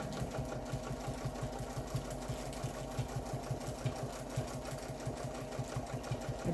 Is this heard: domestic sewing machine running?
yes